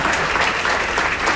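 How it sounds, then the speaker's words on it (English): A brief burst of audience applause at a Hispanic Pioneers breakfast event, dense clapping from a crowd in a room, fairly loud and steady for just over a second. "Everybody, let's give him a round of applause."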